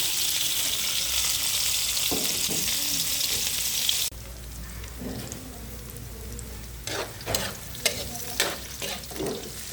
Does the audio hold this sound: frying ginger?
yes